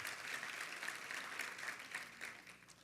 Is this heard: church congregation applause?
yes